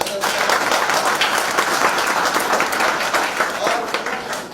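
Steady, dense audience applause fills a celebration at the opening of a new sales office in Gohana, many hands clapping loudly and close without a break throughout.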